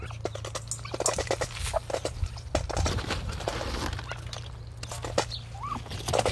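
Chickens cluck and scratch close by while a duck calls on a rural seaside property in New Zealand, busy pecking and clucking sounds over a low steady hum.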